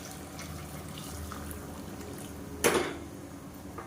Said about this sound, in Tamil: குழம்புக்கு தேவையான அளவு தண்ணி சேர்த்துக்கோங்க.